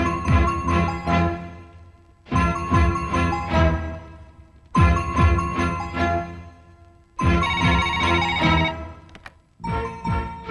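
An outgoing phone call's ringback plays as a loud melodic chime phrase, repeating about four times in evenly spaced bursts with short gaps, then cut off.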